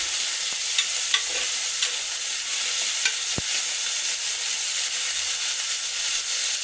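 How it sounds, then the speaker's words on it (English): Finely chopped green capsicum fries in hot oil for an Indian masala egg biryani, a steady close sizzle with faint stirring clicks and scrapes throughout, no talk. "Add the finely chopped green capsicum. Now just fry it."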